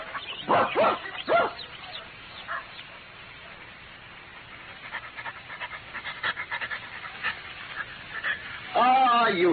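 A dog barks, pants and whimpers in short bursts in an old radio drama, with people talking over and between the dog sounds.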